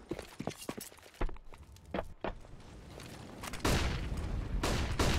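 Counter-Strike match with rapid gunfire bursts and single cracks, followed by a louder sustained blast like a flashbang, all dense and close with game ambience.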